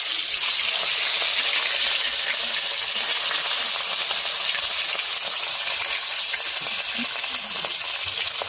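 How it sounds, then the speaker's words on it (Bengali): Fish rubbed with salt and turmeric sizzles steadily in hot oil in a home kitchen, a continuous loud hiss and crackle with no talking. "তেল গরম হয়ে গেছে, এবার মাছ দিয়ে দেবো।"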